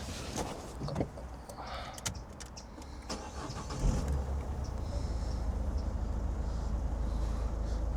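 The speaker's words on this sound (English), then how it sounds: "Let's put on the engine and see how she sounds." A 2010 Citroen C4 diesel engine starting up, close by, with a few clicks and clunks before the starter catches at about four seconds. The engine then settles into a steady, low idle that continues to the end.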